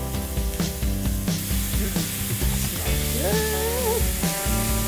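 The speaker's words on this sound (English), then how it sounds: "So we're gonna put our mushrooms in. And we're just gonna saute these until they're softened a little bit." Mushrooms sautéing in a pan for an orzo pasta dish, a loud, close, steady sizzle with occasional scrapes and tonal whines from the cookware, with no one talking.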